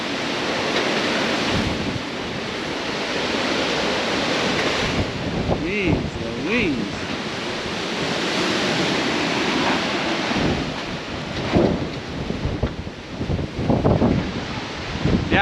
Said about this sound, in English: we just got a heck of a storm blowing in